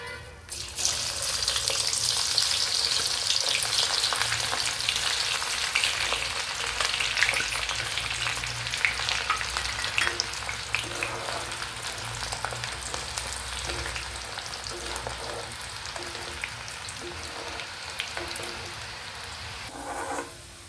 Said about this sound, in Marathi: आपण हा जो ओबडधोबड टेचलेला लसूण आहे तो चांगला कडकडीत होईपर्यंत तेलामध्ये तळून घेणार आहोत.